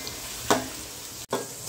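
Onions fried to dark brown with a few green chillies sizzle in a biryani pot, with two quick stirring scrapes over the steady frying hiss.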